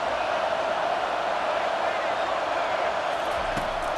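A stadium crowd in EA Sports College Football 25 roars in a dense, steady wall of noise during a Wolfpack versus Nebraska game, loud and unbroken, with a commentator talking over it.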